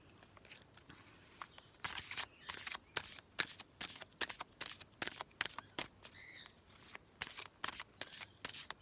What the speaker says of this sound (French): on va tirer les cartes de l'oracle